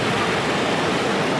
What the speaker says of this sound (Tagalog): Lakas ng alon, grabe.